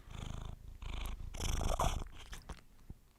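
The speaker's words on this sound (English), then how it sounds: "Can people hear the purrs?" A pet cat named Buster purrs close to a microphone in a pulsing, rhythmic rumble with breathy in-and-out surges, loud and near, ending with a few soft clicks.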